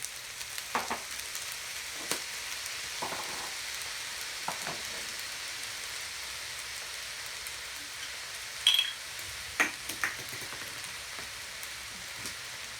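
Mee goreng noodles fry in a pan after a splash of light soy sauce, giving a soft sizzling bed broken by scattered crackles, stirring clatters and a few sharp knocks.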